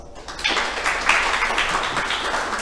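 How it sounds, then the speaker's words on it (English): Steady audience applause at a Bitcoin meetup in San Francisco, many hands clapping together in a dense, even wash that holds for a couple of seconds with no talking over it. "big round of applause"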